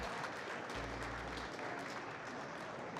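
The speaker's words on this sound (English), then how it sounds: "Big round of applause for our individual semifinal round." Audience applause after an individual semifinal round of a collegiate Excel competition, a steady dense wash of clapping hands filling the room, continuous and even throughout.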